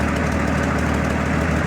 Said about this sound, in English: A bit of backfire there a little bit.